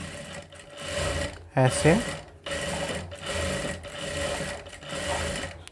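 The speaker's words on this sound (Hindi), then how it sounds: "अब हम इस पर एक प्रेस सिलाई लगाएंगे, जो कि बहुत ही कॉर्नर पे हमें लगाना है।" A sewing machine runs in steady bursts while stitching a boat neck blouse, pressing a line right along the corner edge, with a brief spoken word and a short clattery pause partway through.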